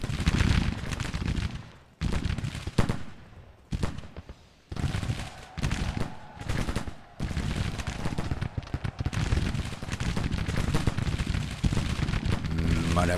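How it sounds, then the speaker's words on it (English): Musket volleys crackle through a Civil War strategy game battle, bursts of rattling gunfire arriving in dense rolling waves with short gaps between them, loud and continuous with distant booms mixed in. "Firing at the wrong damn people."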